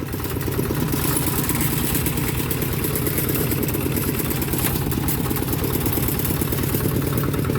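A Toyota Vigo pickup with a manual gearbox running at idle, a loud, close, steady engine rumble with an even rhythmic clatter throughout, no voices heard.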